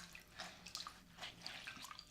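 Water dripping and trickling from wet fusible interfacing as it is gently squeezed by hand, a few faint, scattered drips and small splashes close by in a quiet room.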